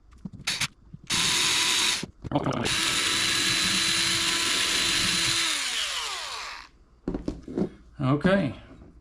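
A power drill with a 1/8 inch bit enlarges a lubricated hole in a boat's coupling, whirring loudly and steadily for several seconds before spinning down, with brief handling noises before and after.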